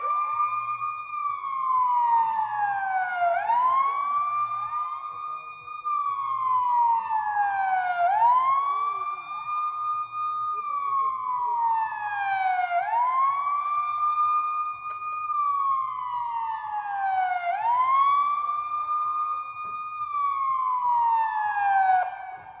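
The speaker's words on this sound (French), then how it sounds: "on attend maintenant la découverte de la sirène américaine qui viendra systématiquement" An American-style electronic siren at a village festival in Aubais, France wails in repeated rising and falling sweeps, loud and continuous for over twenty seconds with no talking.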